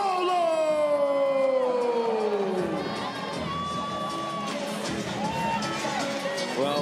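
Arena crowd at a Craig Jones Invitational jiu-jitsu event roaring and cheering as grappler Ruotolo makes his entrance, with a long falling whoop at first, then a sustained dense roar of voices.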